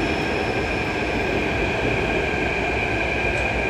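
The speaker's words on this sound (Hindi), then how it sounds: "ये मेट्रो आ गई" A metro train arriving at a station in Jaipur rumbles loudly and steadily nearby, with a constant high electric whine and no talking.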